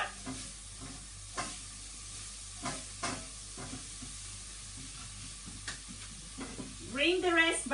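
Sliced peppers stir-frying in a pan for chicken noodles, a hissing sizzle broken by repeated stirring scrapes, with a louder burst of sizzle near the end and no speech.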